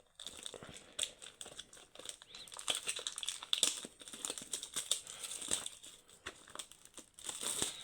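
Plastic packaging of a Pokémon Prismatic Evolutions bundle is torn and crinkled close up, with continuous irregular crackling, rustling and sharp tearing bursts throughout.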